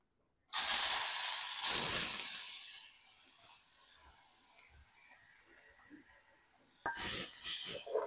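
Chopped vegetables hit hot oil with a loud sudden sizzling hiss that fades over a couple of seconds, then a second burst of sizzle comes as they are stirred in the pan.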